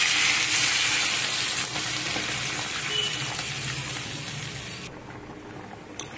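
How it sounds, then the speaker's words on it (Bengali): Water poured into a hot pan of sizzling cauliflower and prawn masala sets off a loud, steady hiss and bubbling that fades slightly, then cuts off near the end. "এর মধ্যে আমি এবার দিয়ে দেবো জল"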